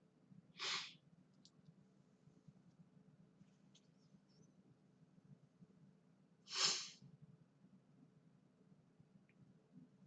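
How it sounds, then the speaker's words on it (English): Two sharp sneezes, several seconds apart, stand out clearly over a low steady background hum. "And I'm going to sneeze."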